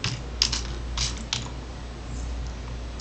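Keystrokes on a computer keyboard while a marker label is typed into Ocenaudio audio software: a few quick clicks over a steady low hum, then quiet.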